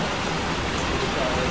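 Heavy rain pours down steadily during a long road journey, a dense, constant hiss close by that fills the whole moment without letup.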